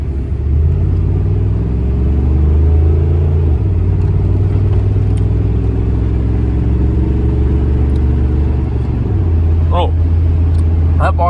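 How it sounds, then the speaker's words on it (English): A pickup truck engine idles on a cold day, a loud, steady low rumble with shifts in pitch as it warms up, while a person talks over it. "I gotta warm my pickup up"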